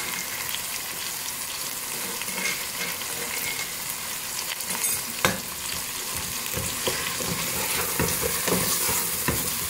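Loud, continuous sizzling as chicken and garlic ginger paste fry in a pan, with scraping stirs and occasional sharper pops throughout.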